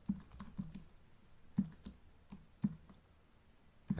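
Quiet typing on a computer keyboard while writing out an HTML5 document in a text editor, with irregular soft key clicks and a few louder taps spread across the stretch.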